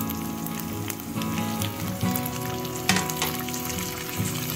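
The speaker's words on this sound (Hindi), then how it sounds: "अब हम इसमें डाल रहे हैं टमाटर" Chopped tomatoes hit light-brown frying onions in a hot pan, setting off a steady loud sizzle with scattered crackles and occasional stirring scrapes throughout.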